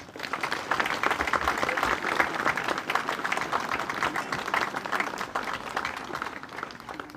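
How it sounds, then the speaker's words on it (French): An audience at an inauguration ceremony at an outdoor leisure base applauds, many hands clapping in a full, steady burst that swells early and holds before easing slightly. "je vous demande, messieurs, dames, de bien vouloir l'applaudir"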